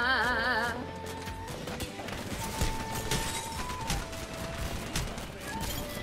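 Rapid gunfire from the video game Apex Legends, with bursts of shots and impacts layered over game music and effects at a moderate, steady level.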